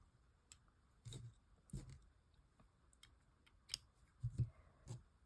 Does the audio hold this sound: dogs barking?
no